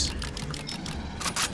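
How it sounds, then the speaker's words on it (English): Quick weapon reload in Aliens: Fireteam Elite, a rapid string of mechanical clicks and clacks over a low game ambience, ending in a sharper burst of metallic snaps near the end. "Quick reload. Rearm."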